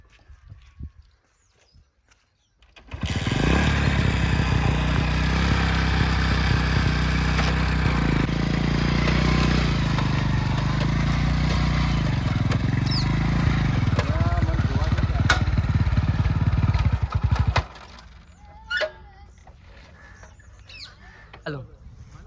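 A motorcycle engine runs loud and steady for about fifteen seconds, its pitch shifting partway through, then cuts off abruptly. Quieter background sounds and voices follow.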